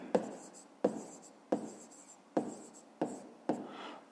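Handwriting a math solution on paper, about six sharp pen-strike taps each followed by a short scratchy stroke, close and isolated with no talking.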